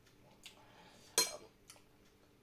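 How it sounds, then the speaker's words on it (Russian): A spoon scoops salad from a dish, giving a few faint, brief clinks of metal against the dish, with one sharper tap in the middle, in an otherwise quiet room. "почему вы в салат лезете ложкой?"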